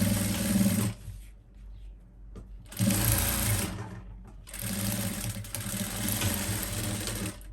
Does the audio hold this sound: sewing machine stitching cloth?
yes